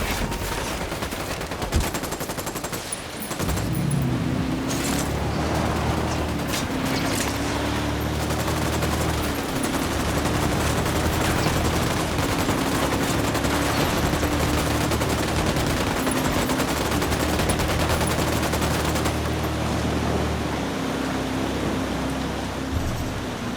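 Sustained gunfire in the Ghost Recon Wildlands video game, a dense rattle of rifle fire under a steady wash of noise with a droning vehicle hum, after a few louder early shots.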